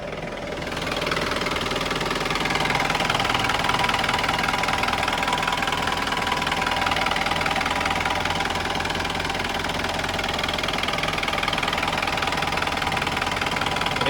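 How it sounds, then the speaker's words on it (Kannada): The 2011 Mahindra Bolero diesel engine idles steadily with the bonnet open, giving a close, even clatter and hum. The rhythm stays uniform and unchanging throughout, with no talking. "ಕ್ರೇಜ್ ಇದೆ ಇಂಜಿನ್ ಸೌಂಡ್ ಅಂತೂ."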